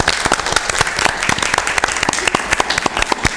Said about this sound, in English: I think we give you a round of applause.